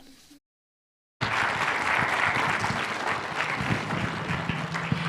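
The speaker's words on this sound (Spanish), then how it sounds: "vamos a dar por favor fuertes aplausos a Pastor Salvador Pérez por la palabra" Church audience at a Bible seminar applauds the pastor after his sermon, dense sustained clapping from many hands that starts after a brief gap and continues steadily for about four seconds.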